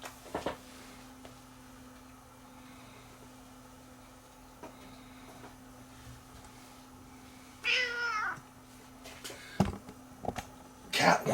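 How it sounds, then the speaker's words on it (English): A house cat meows a few times at a door to be let in, the calls spaced apart over quiet room hum with a couple of knocks and clatters. "Cat wants to come in and say hi."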